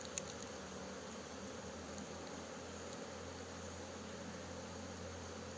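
A traveling swarm of honeybees makes a faint, continuous droning hum over low background noise, steady throughout with no talking.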